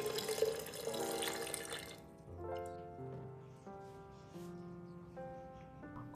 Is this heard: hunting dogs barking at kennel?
no